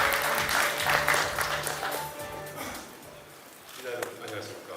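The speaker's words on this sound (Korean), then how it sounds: "큰 박수 부탁드립니다." Audience applause at a Kia Mohave The Master launch and test-drive event, a moderately loud patter of clapping blended with tonal sound and voices, easing off partway through and then briefly swelling again.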